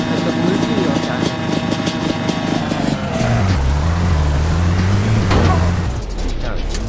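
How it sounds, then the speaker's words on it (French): A vehicle rolls over loose gravel in a desert video game, its engine droning with a shifting low tone while someone talks over it, the rumble easing off near the end. "On dirait qu'on roule dans la caillasse."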